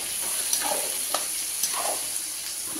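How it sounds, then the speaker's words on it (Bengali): About 1.2 kg of onions fry for a mutton curry, a steady sizzling hiss with three or four soft scraping stirs at a regular pace, close and moderately loud. "মাংসটা এখন পেঁয়াজটা ভাজা ভাজা হচ্ছে"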